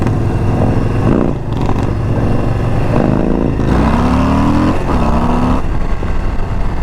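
A 2022 Harley Davidson Low Rider ST with a 117 engine accelerating hard on the road, loud, close engine revs climbing through several gear pulls over heavy wind rush.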